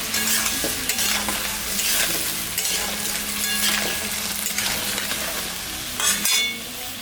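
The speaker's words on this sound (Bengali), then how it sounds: "এখানে শুকনো লঙ্কা জিরা সম্বরা দিয়ে দিলাম" Dry red chilies and cumin seeds spit and crackle loudly in hot oil, a dense, continuous close sizzle with stirring scrapes and a brief dip near the end, no voices.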